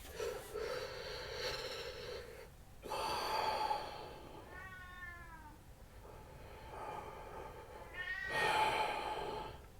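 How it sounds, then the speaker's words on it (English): A pet cat meows several times in a quiet room, drawn-out calls heard close by amid soft breathing sounds, with no talking. "My cat is fine, she just was in the room, but then she wanted to go out again"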